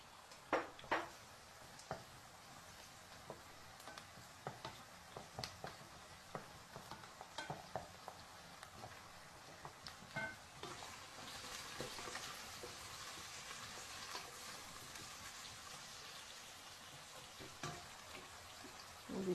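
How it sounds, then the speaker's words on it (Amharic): Onion, carrot, zucchini and garlic fry in a pan with a faint, steady sizzle, broken by repeated clicks and scrapes as the vegetables are stirred. "ከዛ እዚህ ጋር ሽንኩርቱ ሲጠበስልኝ"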